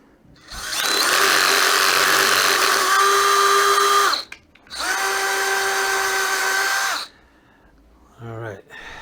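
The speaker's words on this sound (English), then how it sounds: "nice tap mode with the drill." Power drill running in tap mode while fitting a pump for a Chinese diesel heater, two loud whirring bursts of about three seconds each with a short gap, close by, followed by a brief voice afterward.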